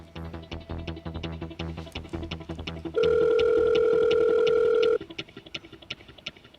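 A phone call rings out on the line, a steady two-tone ringback held for about two seconds between stretches of faint ticking and rhythmic pulsing, close and clear.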